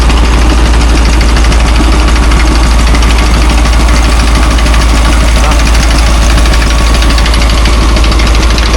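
A drilling machine running at a construction site where a crew is pouring beams, producing a loud, continuous pulsing engine drone with heavy low rumble and vibration, with people talking faintly under it.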